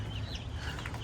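Young broiler chicks cluck and cheep close by on a poultry farm, a short dense burst of overlapping bird calls without any talk.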